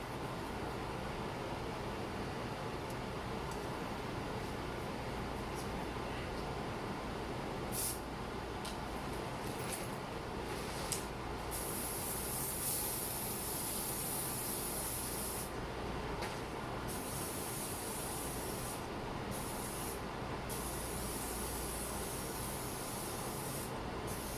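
A steady, continuous spray hiss runs throughout, close and even, with brief breaks and rustling rubbing sounds in between.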